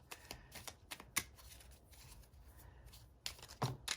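Tarot cards riffle and flick in quick, soft bursts, close and quiet, with a brisker flurry of shuffling toward the end.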